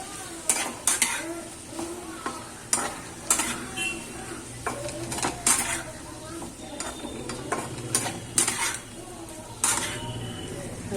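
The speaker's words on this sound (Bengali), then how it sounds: "এবার লঙ্কা গুঁড়ো দিয়ে এবার মশলা দিয়ে কষাবো।" Chilli powder and spices being sautéed in a pan for an olkopi and prawn curry: a soft sizzle runs underneath while a spatula scrapes and clinks against the pan in repeated, uneven strokes, close by, with no voices.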